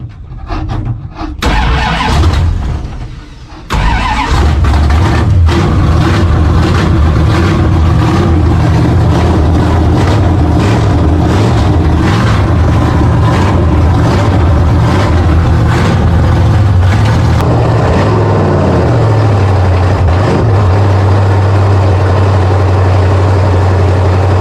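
A big-block 1974 Plymouth Scamp cranks over in bursts, catches and roars to life loudly, then settles into a rough, steady idle that drops lower near the end, close up with no talking.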